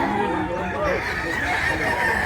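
Several roosters and hens at a busy poultry sale crow and cluck together, loud and overlapping, over a crowded background murmur.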